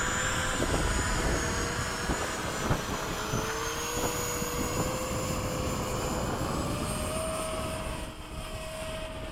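An F-16 jet in a video game roars through a low pass over a runway, a steady loud engine drone with a slowly rising whine that holds for the whole stretch, with no voices.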